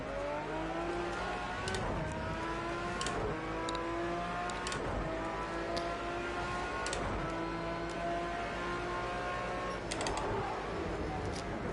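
An Aston Martin race car engine in a racing video game at Donington, revving hard with a steady high whine through repeated gear shifts and accelerations, loud and continuous throughout.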